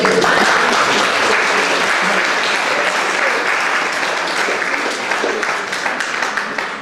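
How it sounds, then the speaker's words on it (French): Loud, sustained applause from the audience at a French talk on a therapeutic education programme for pump users, dense clapping holding strong for several seconds before thinning out. "On va d'abord t'applaudir."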